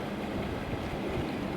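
A fishing boat's motor idles on open water, a steady low rumble mixed with wind and water noise throughout, with no talking.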